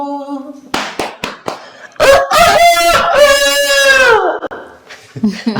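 After a few sharp claps, a person loudly imitates a rooster's crow with one long, drawn-out, rising-and-falling call, close up.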